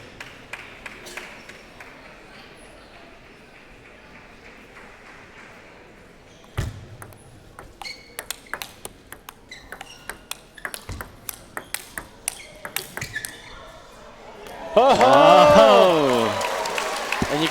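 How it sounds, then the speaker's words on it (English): Crowd at a college table tennis match at the 2016 NCTTA Nationals coed team semifinal, ball pings and scattered claps before a loud burst of cheering and applause near the end, with commentary throughout. "you can hear the crowd celebrate as Emily takes the first game of this match, 11-8"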